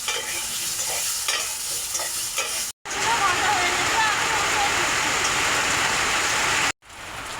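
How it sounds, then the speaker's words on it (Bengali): Potatoes hit hot oil in a wok over a clay stove, bursting into a loud, dense sizzle that roars steadily, broken by two abrupt silent cuts, with faint background sounds early on. "এখন আমি আলু দিচ্ছি।"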